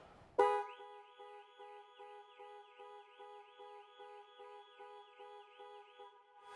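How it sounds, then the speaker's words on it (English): A Jaguar F-Pace panic alarm horn sounds in repeated warbling pulses, steady and sustained, after a brief sharp click at the start; moderately distant. "press 3 times in 3 seconds and the horn will sound and the hazard lights will flash"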